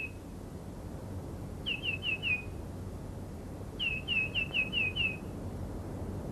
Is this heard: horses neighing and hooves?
no